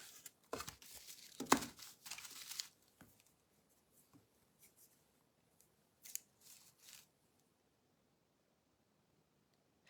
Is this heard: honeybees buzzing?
no